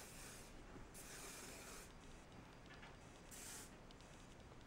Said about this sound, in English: you can go ahead and spray it up